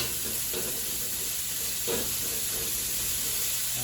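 Cauliflower and pork sizzling steadily in hot oil for dry pot cooking, a continuous close crackle and hiss with occasional stirring scrapes, no voices.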